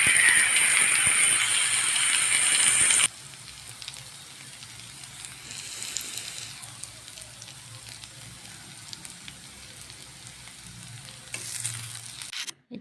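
Bay leaves, a few dried chillies and onion frying in hot oil in a pan, a steady close sizzle that loudens at first, then settles to a softer crackle with occasional stirring clinks.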